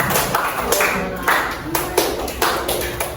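High-school students clap in short spaced bursts on a teacher's command during a maths lesson, with several sharp group claps separated by pauses and faint voices between them.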